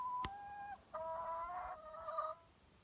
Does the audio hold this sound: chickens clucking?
yes